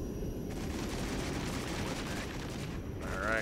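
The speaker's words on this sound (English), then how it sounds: "tons of artillery down there" Artillery fire in the Cold War strategy game Regiments: a dense, continuous rumble of overlapping distant gunfire and blasts rolling on without a break.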